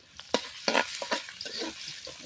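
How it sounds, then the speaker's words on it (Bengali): Green chillies and onions frying in a pan for a taro-leaf (kochu shak) dish, with a steady sizzle and several sharp spatula scrapes and stirs close by, no talking. "এখন কাঁচামরিচ পেঁয়াজ সব দিয়ে দিবে একটু ভাজা হলে"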